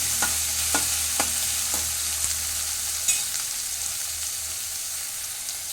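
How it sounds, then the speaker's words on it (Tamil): Tomatoes are stirred and fried in a pan for fenugreek chutney, with a steady close sizzle and several distinct scraping strokes of a spoon early on, and no voices. "தக்காளியும் சேர்த்து இதில் நல்லா கிண்டி வேக விடணும்"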